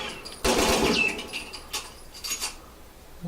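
Burst rifle firing in The Last of Us multiplayer, a loud rapid burst of shots followed by a few fainter scattered shots and clicks.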